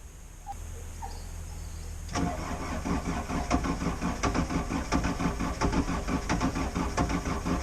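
A CAT 304CR mini excavator's diesel engine, warmed up, cranks and catches after about two seconds of quiet, then runs with a loud, steady chugging idle and a rhythmic knock close by for the rest of the clip.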